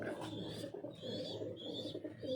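Caged racing pigeons cooing softly, low murmuring coos repeating over a faint background hum, quiet and somewhat distant.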